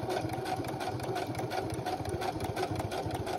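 A sewing machine stitches a synthetic belt strap, running in a fast, steady mechanical rattle close up and without pause for the whole stretch.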